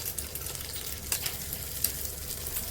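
Curry leaves and green chillies frying in hot oil for poha chudwa, a close, steady crackling sizzle with a few louder pops and stirring scrapes and no voices.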